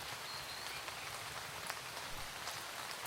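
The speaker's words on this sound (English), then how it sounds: "It's raining, of course." Rain in the video game Starbound falls as a faint, steady patter and hiss with scattered small drop ticks, continuous and unaccompanied by talk.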